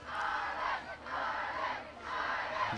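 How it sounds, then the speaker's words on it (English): Rugby crowd at a women's international between England and Ireland, roaring and cheering in three swelling waves, loud and broad, with no talk over it. "The crowd begin to find their voice and offers them backing."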